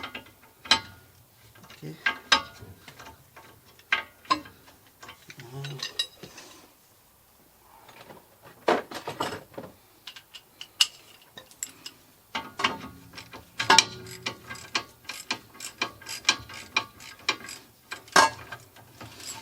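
19mm wrench loosening a strut on a 1998 Toyota Corolla front strut assembly, with repeated sharp metallic ratcheting clicks and clanks in irregular bursts, close up, and a brief word spoken.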